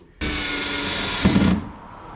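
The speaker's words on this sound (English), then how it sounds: "I just drilled a hole in my car" A power drill whirs at high speed for about a second and a half, bogging slightly as it bites into a Camaro SS body panel, then stops abruptly; close and loud.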